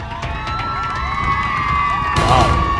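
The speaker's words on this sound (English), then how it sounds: "There's a bunch of kids out there cheering me on." A crowd of children cheers and shouts outdoors in a continuous bright din, with whoops and scattered claps swelling slightly toward the end.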